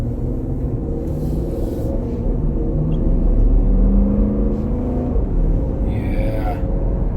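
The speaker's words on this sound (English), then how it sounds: "This exhaust sounds really good out here too." 2022 Dodge Durango R/T with a 5.7 V8 HEMI, AWD, driving along with a steady low engine and exhaust rumble heard from inside, swelling slightly mid-clip, with faint voice sounds.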